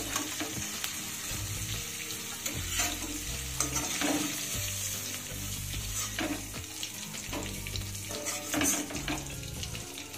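Paneer cubes fry in hot oil in a pan, giving a steady, close sizzle with repeated scraping and stirring clatter throughout, no voices.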